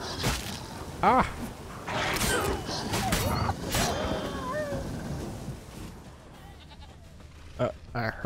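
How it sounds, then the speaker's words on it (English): A goat bleating in The Witcher 3, several short wavering calls spread across the scene at moderate distance, mixed with game ambience and someone talking over parts of it. "Where are you, goat?"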